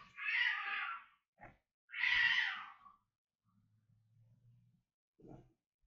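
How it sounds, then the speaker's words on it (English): Two cats outside yowling and caterwauling at each other in two long drawn-out cries, fairly faint and distant, followed by low growls and a short final cry. "So there's a little cat fight going on outside."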